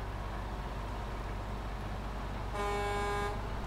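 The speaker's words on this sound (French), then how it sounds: "Joli petit klaxon, j'avais oublié." A truck horn in the SnowRunner video game gives one steady toot lasting under a second, sounding near the end over a constant low engine rumble.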